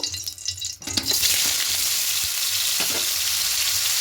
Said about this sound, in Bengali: পনিরটাকে হালকা একটু লাল করে ভেজে দেবো